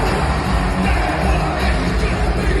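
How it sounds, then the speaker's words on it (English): A packed wrestling arena crowd roars continuously for Jey Uso, a dense, loud wash of cheering and shouting with no pauses. "This is the crowd going nuts for Jey Uso"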